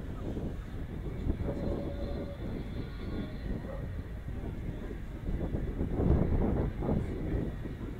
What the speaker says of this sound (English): The Vulcan has landed.